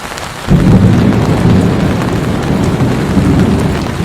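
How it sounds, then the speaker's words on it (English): Heavy rain and a deep thunder rumble in Scotland, in the game Football Manager 2023, begin abruptly and continue as a loud, dense, steady downpour. "It does nothing but rain here in Scotland"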